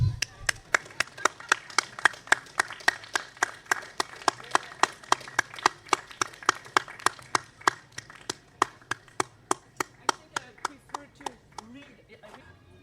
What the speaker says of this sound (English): We'll applaud until you get here.